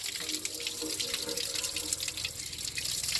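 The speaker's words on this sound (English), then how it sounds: "There's some air in the hose coming out. It's a 75 or 100-foot hose. So that's full blast." Water runs full blast from a 75 or 100-foot garden hose, a loud, steady rushing gush with some sputter from air in the line, continuous throughout.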